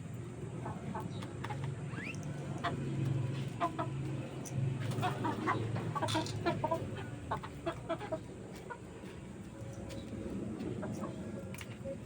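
A black-red Siamo gamefowl rooster clucks in repeated short bursts close by, with other fowl and farmyard murmur in the background throughout.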